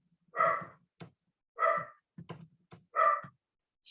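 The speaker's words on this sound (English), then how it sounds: "sorry, my dog's barking." Indoor dog barking close by, three loud separate barks spaced about a second and a half apart, with soft thumps and breathing between them and no talk.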